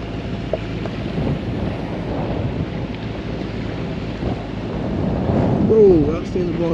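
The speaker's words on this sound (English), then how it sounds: "Wind's got up." Wind buffets the microphone during a boat trip on the Norfolk Broads, a steady low roar that swells toward the end, with faint water sounds beneath.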